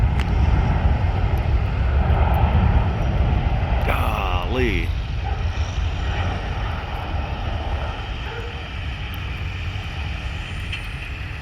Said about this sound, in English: big ass military plane coming into Hilo Airport.